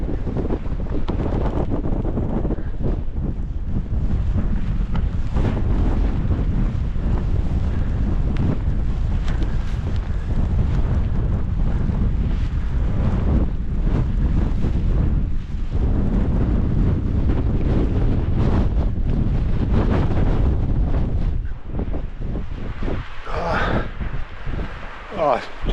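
Gale force wind buffeting a microphone on an exposed winter moor, a continuous loud roaring rumble with gusty bursts throughout, close and overwhelming.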